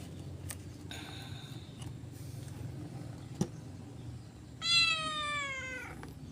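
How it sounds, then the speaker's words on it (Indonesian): A cat meows once, loud and near, a rising then falling harmonic cry near the end, after several faint taps and a sharp click over steady low background hum. "kucing ini guys, mengganggu guys"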